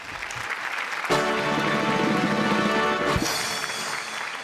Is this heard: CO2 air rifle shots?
no